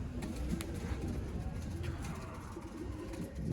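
A Sialkoti pigeon coos softly and repeatedly against a steady, noisy background, with no one speaking.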